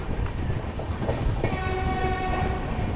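The Vikramshila Express, running from Anand Vihar toward Bhagalpur, passes Sultanganj railway station in India. The loud, steady roar and clatter of the train are close by, and a sustained horn blast joins partway through. No one speaks.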